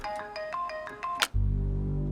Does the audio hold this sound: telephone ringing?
yes